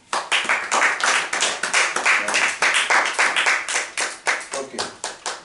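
A church congregation claps in a steady rhythmic beat, loud and close, with many hands striking together in even pulses throughout.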